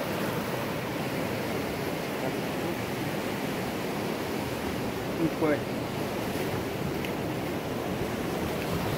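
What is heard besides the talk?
ocean waves washing up on a beach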